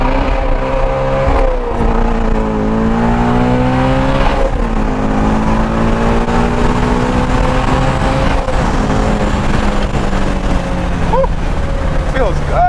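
A Shelby Ford GT350 pulls hard at wide open throttle with traction control off, a loud continuous engine roar heard from inside the cabin, revs climbing and briefly dipping at gear changes; a voice can be faintly heard under it.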